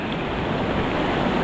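Rushing water at Pelangi waterfall, a dense, unbroken roar of falling water filling the whole clip at steady loudness, with no talk.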